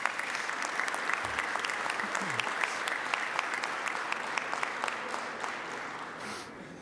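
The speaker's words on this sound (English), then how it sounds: "please join me in giving them all a well-deserved round of applause" A Rotary Club meeting audience gives a sustained round of applause, steady dense clapping that carries on for several seconds at moderate volume, with a brief voice underneath near the start.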